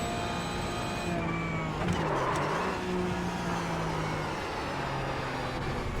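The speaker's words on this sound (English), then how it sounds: "Love the sound of this car." A race car engine in the sim racing game iRacing drones steadily, with pitch shifts as it changes speed through a chicane, moderately loud and continuous with no talk.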